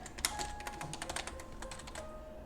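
Quiet, rapid tapping on a computer keyboard, a soft continuous patter of key presses heard close up with no talking.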